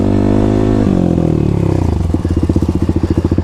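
A Kawasaki KLX300 dirt bike with a Stage 1 modification revs loudly up close, a steady engine note climbing in pitch before breaking into rapid, pulsing throttle blips.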